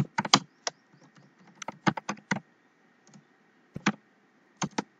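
C code for a while-loop program being typed on a computer keyboard: irregular bursts of crisp, close key clicks, some in quick clusters, separated by short quiet gaps, with no talking.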